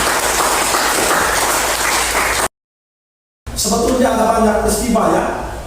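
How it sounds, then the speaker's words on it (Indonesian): Classroom applause for classmates, a dense patter of clapping from a group of students, broken by a short silent gap before clapping resumes under a teacher's voice speaking. "Kita berikan tepuk tangan untuk teman-teman."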